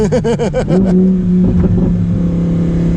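A Lamborghini Huracan Performante engine revs hard in quick pulsing bursts, then settles into a loud, steady drone as the car drives on, close and powerful.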